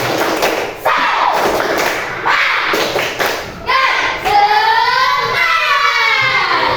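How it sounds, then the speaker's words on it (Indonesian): A school class performs a rhythmic clapping chant, a series of sharp, loud, close claps and thumps in quick patterned groups, followed by voices chanting together in a sing-song cadence. "kita coba tepuk semangat"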